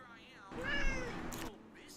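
A cat gives a single clear, drawn-out meow that rises and then falls, fairly close and moderately loud, with a faint rustle and quiet room sounds around it.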